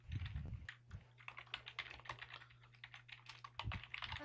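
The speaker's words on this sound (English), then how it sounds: "Oh wait, no, I can hear your keyboard" Computer keyboard typing, picked up over a voice call: quick, irregular clicks and taps at a fairly low, steady level, with a faint low hum underneath and no talking.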